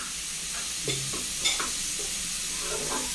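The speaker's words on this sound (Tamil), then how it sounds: "அந்த எண்ணெயில் அப்படியே ஒரு வதக்கு வதக்கிடணும்" Ingredients sauté in a shallow layer of hot oil, giving a soft, even sizzle punctuated by a few scraping stirs of a spoon against the pan, close by and without speech.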